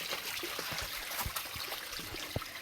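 Water trickles and drips down a nearly drained waterfall, a thin broadband wash of running water with scattered close splashes and gurgles, steady and moderately loud with no talking.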